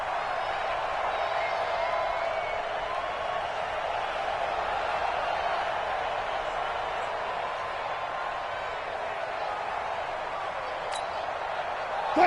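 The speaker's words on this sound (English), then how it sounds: "the crowd getting into it as we come up on a big third down" A stadium crowd in a football video game roars in a steady, dense wash of noise that holds for about twelve seconds with no break.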